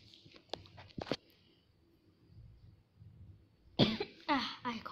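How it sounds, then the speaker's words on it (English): A child coughs several times in quick bursts, close and fairly loud, then pauses and gives a second harsher round of coughing with some throat clearing. "I coughed."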